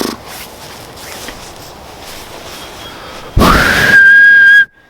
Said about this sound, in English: You don't actually whistle. You whistle inwards